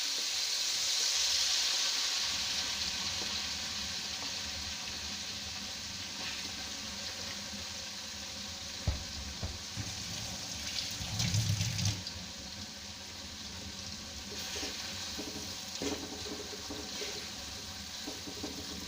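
A steady sizzle of grated coconut frying in hot oil, soft and continuous, with occasional clinks and stirring noises.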